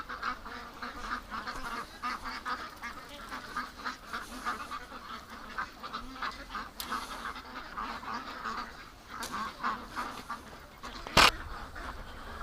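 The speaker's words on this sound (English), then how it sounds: "Get in the pen there, ducks." Ducks outside their pen quacking and honking in a steady, busy chorus close by, with one sharp louder burst near the end.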